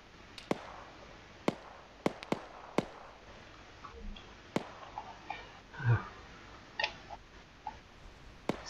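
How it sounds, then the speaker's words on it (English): Mortar fire in an ArmA 3 battle comes as scattered sharp, distant pops and thuds at irregular intervals over a faint background. "it's just their mortar fire."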